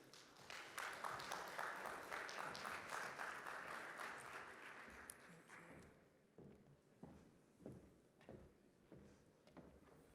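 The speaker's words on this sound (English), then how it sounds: "Please give Jo Ellen a round of applause as she comes." Warm audience applause at an investment forum greets a speaker coming to the stage, strongest early then thinning into scattered claps, footsteps and faint voices.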